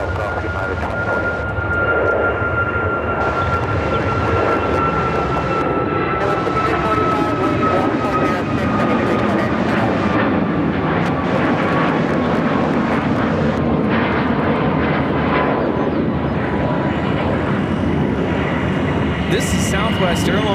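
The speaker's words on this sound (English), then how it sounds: "This is Southwest Airlines 196 taking off to Baltimore on the MAX 8." A Southwest Airlines Boeing 737 MAX 8 bound for Baltimore takes off at Chicago O'Hare, a sustained jet engine roar building and holding, with bursts of radio-style voices over it.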